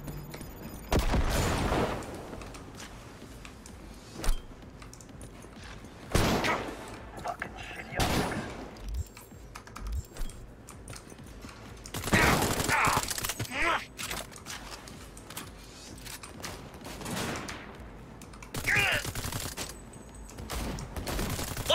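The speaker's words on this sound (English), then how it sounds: "Under heavy fire!" Bursts of heavy gunfire in the game Cyberpunk 2077, with repeated loud volleys and impacts spread through a sustained firefight, over a constant backdrop of game noise.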